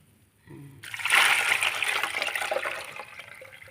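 Salted lime juice being strained for homemade dish soap pours and splashes through a strainer, a close, steady watery rush that starts with a short trickle and then flows continuously to the end.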